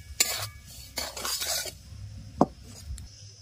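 Lightly fried semolina is scraped and poured from a pan in a home kitchen. A spoon scrapes and clinks against the metal in several short bursts, with quiet gaps and one sharp clink partway through.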